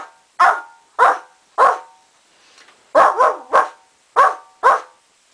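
A person mimics a small dog with high-pitched barks, three evenly spaced yaps, a brief pause, then a quicker run of five or so, all close and loud with silence in between.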